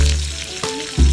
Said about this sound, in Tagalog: Tapos nilagay ko na yung sibuyas